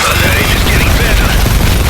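Sustained remote turret gunfire in the war game Call of Duty Modern Warfare, a dense loud continuous barrage with booming low rumble and a voice faintly mixed in.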